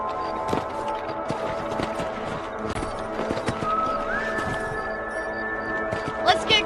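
Horse hooves clip-clopping at a steady trotting rhythm while riding in the Red Dead Redemption video game, close and clear, with a voice speaking over the hoofbeats.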